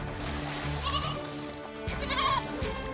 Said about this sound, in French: les chèvres sont sur la plage, on va devoir les regrouper